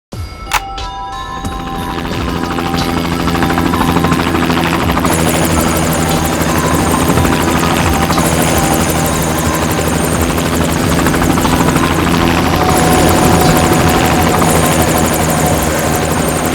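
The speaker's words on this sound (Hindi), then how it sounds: "ब्लैक बॉक्स की रिकॉर्डिंग सुनते हैं, पता चल जाएगा उड़ान के वक्त हेलीकॉप्टर में क्या बातें चल रही थी।" Helicopter engine and rotor noise from a black box recording in a crime drama: a loud, steady whine and rhythmic rotor drone that starts abruptly and holds for the whole span, with no voices over it.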